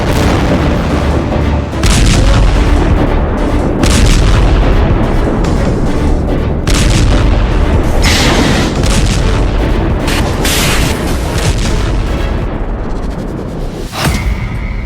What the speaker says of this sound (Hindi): लेबनान बॉर्डर पर तेज हुई लड़ाई। हिजबुल्लाह ने कई मिसाइल दागी।